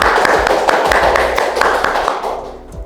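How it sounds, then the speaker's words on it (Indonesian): Audience clapping for the headmaster of a junior high school in Cepu, Indonesia, during a school podcast: a few seconds of steady, fairly loud applause with sharp hand-slap transients and a faint voice underneath. "Beri tepuk tangan dulu dong"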